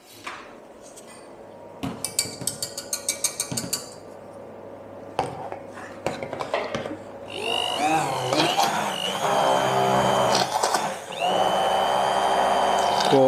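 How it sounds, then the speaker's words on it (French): Kitchen hand blender mixing pastry ingredients in a bowl, starting after a run of clinks and taps of utensils, then a loud whirring motor that rises and holds steady to the end. "Un petit coup de mixeur."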